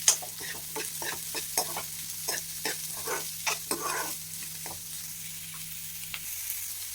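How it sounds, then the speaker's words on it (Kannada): Onions and green chillies frying together in oil, a soft close sizzle beneath regular scraping stirs of a spoon against the pan, the stirring thinning out toward the end. "ಈರುಳ್ಳಿ ಹಸಿಮೆಣಸಿನ್ಕಾಯಿ ಎರಡನ್ನೂ ಒಟ್ಟಿಗೆ ಹಾಕ್ಕೊಂಡು ಚೆನ್ನಾಗಿ ಫ್ರೈ ಮಾಡ್ಕೋಬೇಕು."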